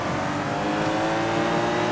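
Steady engine drone of a police car driven in the open-world game Sleeping Dogs, a loud, continuous hum and rev held close throughout with no talk.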